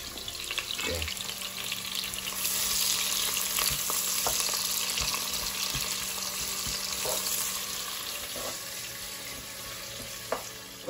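Onion frying in hot oil in a pot makes a steady, close, continuous sizzle with occasional stirring clinks and faint water-like crackle, no voices over it.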